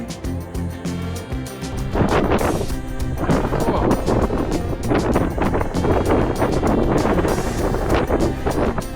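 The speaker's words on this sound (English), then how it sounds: "Yes, it's windy." Strong wind roars and buffets against the microphone in loud, uneven gusts, with a constant low rumble underneath, at Torres del Paine in Patagonia.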